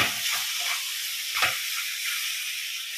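Eggplant pieces frying in hot oil for a village-style biryani side dish, a steady close hiss and sizzle with brief stirring bursts.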